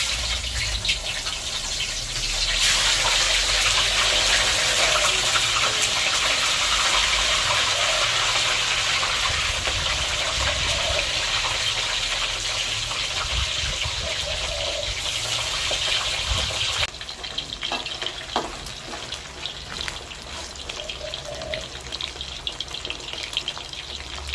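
Mushrooms dropped into hot oil in a pan for a Thai chu chee fish dish, a loud sustained hiss and sizzle that surges strongly, then settles into quieter crackling.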